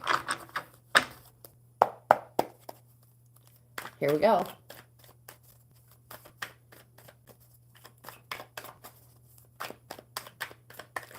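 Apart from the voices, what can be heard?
shuffling playing cards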